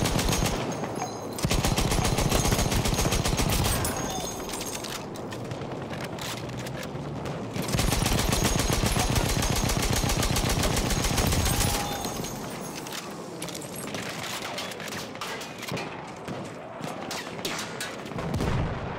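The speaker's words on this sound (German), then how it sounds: "Ein Maschinengewehr!" Machine guns rattle in Battlefield 1 conquest gameplay, with long, dense bursts of rapid automatic fire that cut in and out, loud and close, and brief pauses between the volleys.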